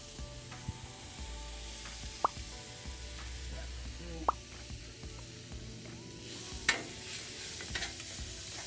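Cheesesteak meat sizzles on a griddle with a dab of roasted garlic butter, a low steady frying hiss with scattered sharp clicks and taps from a spatula.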